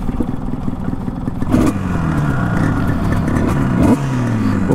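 A tuned Yamaha RD350 two-stroke motorcycle engine, cold and stalling, idles and revs in neutral in uneven bursts, close and loud, with a rattly mechanical clatter and pitch rising and falling.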